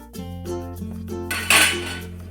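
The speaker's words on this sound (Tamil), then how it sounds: "ஒரு தட்டம் போட்டு மூடி வைப்போம்" A metal plate is set over a pot, producing ringing metallic clinks and sustained tonal resonance, ending with a brighter scraping clatter as it settles into place; brief and close.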